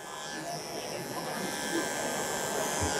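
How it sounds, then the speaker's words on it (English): An Andis Pulse ZR II cordless clipper fitted with stainless steel guide combs buzzes steadily while trimming down the back of a Doodle dog's coat, a close, continuous hum. "I'm using the Andis Pulse ZR II with the Andis stainless steel combs attached."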